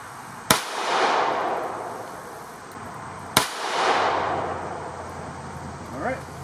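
Two loud, sharp gunshots about three seconds apart, Winchester full metal jacket rounds fired into a bone-and-jeans target outdoors, each followed by a long rolling echo.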